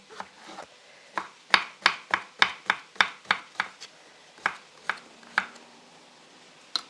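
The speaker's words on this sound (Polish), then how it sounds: "Kroimy w kostkę." A knife dices zucchini into cubes on a board, giving a run of about fifteen crisp, close chops in quick rhythm, then a few slower, spaced cuts.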